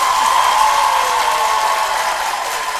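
Audience applause at a televised talk show honouring a women's organisation: a dense, loud wash of clapping, close and sustained, easing slightly toward the end.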